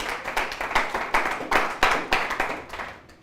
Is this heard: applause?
yes